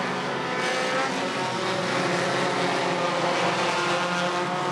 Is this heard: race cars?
yes